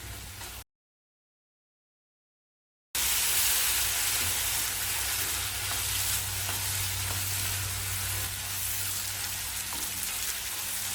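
Chicken uppu curry stir-frying in a pan for a Chettinad-style lunch, a steady loud sizzle and crackle of oil with occasional scraping of the stirring spoon, continuous after a brief silent gap and with no talking.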